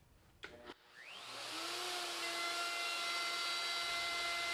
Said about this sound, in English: I'm not going to get right to my finished size with the router.